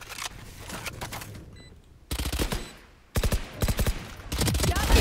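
Rapid automatic gunfire in the video game Valorant, loud bursts of shots in quick succession separated by short gaps, with game sounds and a voice talking underneath.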